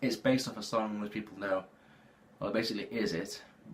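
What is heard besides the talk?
No everyday noises stand out.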